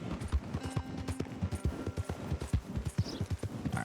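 Horse hooves clip-clop in a steady, fairly quick rhythm in the open-world western game Red Dead Redemption 2, clear and close with no talking.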